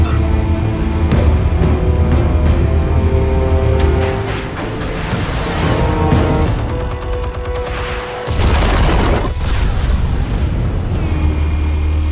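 Armed explosives go off in Batman: The Telltale Series, a loud rumbling blast layered with crackling bursts and debris over a continuous droning score, then a sudden drop before the heavy roar resumes.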